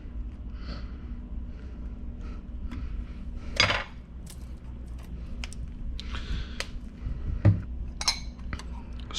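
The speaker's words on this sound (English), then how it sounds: "Stir it around." A utensil clinks and scrapes against a bowl while lime juice is stirred into a stuffed clam mixture, scattered light taps over a low steady background hum with no speech.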